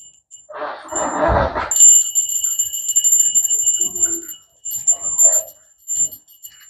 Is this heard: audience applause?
no